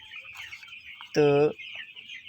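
A broiler chicken on a farm lets out one loud, close cluck of about a third of a second over a constant high buzz of background birds, with a brief voice speaking nearby.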